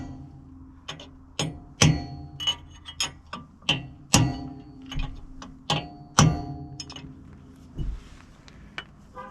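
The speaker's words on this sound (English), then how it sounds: "So I'm gonna hit this with a chisel just to stretch it a bit, and it'll make it easier to come off." A hammer striking a chisel against a vehicle's wiper seal, a series of sharp metallic taps and heavier clanks at an irregular rhythm, close and loud with no speech.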